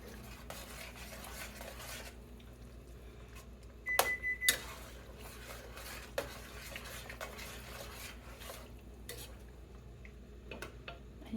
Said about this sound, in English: We are going to stir it around in there, and that's going to thicken up that broth for me.